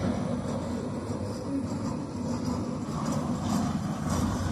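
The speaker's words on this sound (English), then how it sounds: "is it just because this train's moving again?" Freight train cars roll along the track nearby with a continuous, dense rumble and rattle that holds steady throughout, with no talk.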